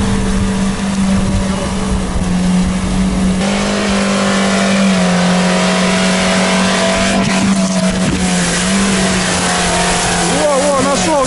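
A Lada Niva off-road vehicle churns through mud with its engine revving hard in a constant loud drone, pitch shifting as it strains, while people shout and talk over it nearby.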